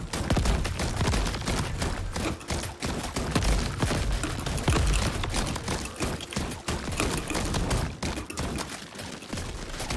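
Dense, unbroken gunfire from the Crab Champions shooter in nightmare mode, a loud, crackling barrage of overlapping shots and blasts that keeps up without pause from start to finish.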